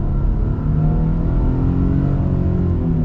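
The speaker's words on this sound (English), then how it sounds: "We'll use this to exercise our V6 power." A lifted Nissan Frontier Rocky Ridge truck with a naturally aspirated V6 accelerating hard, its engine roaring as a steady, loud, close rumble that holds for the whole stretch with no talking.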